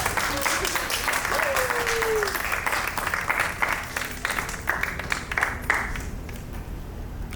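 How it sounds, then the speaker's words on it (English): An audience gives a round of applause at the close of a day-long technology event. The clapping is steady and fairly close, with some brief vocal sounds mixed in, and it softens gradually toward the end. "Big round of applause."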